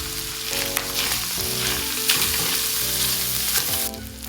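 Pork and onion fry in a pan with a steady, close sizzle and the occasional scrape of stirring, while a melody plays along underneath the cooking.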